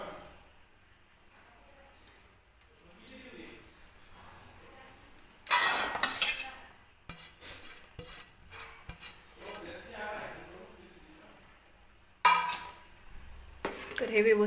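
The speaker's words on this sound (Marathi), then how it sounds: "हे व्यवस्थित कालवण मी मिक्स करून घेते" A spoon stirs mutton curry with chopped coriander in a pot, giving two loud bursts of scraping and rasping against the metal, separated by quieter stretches of faint clinks and rubbing.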